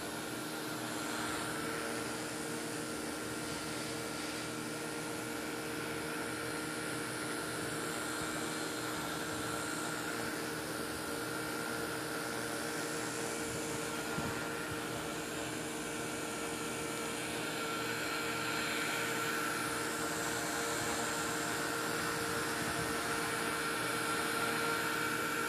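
A Blade mCPX micro RC helicopter powered by a Lectron 300 mAh lipo battery hovers steadily, its rotors giving a continuous high-pitched whine and whirring drone. The sound stays at a constant level throughout, with no talking.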